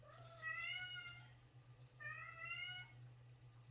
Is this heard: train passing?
no